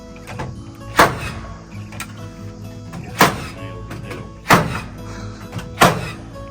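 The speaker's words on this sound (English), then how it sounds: "You ain't gotta have nails in the gun, but it helps." A nail gun fires into wood while cabin walls are framed: four sharp, close thunks at uneven intervals over a quiet background.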